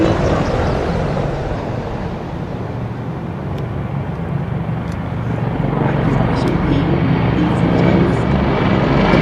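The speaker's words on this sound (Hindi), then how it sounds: "the heartbeat building up as the Indian Air Force presents its flypast" Indian Air Force aircraft formation flypast over Rajpath at a Republic Day parade, flying low: a steady, loud broadband engine roar that swells slightly toward the end, with a commentator talking over it.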